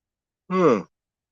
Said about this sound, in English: Sorry, I didn't mean to yawn in your face.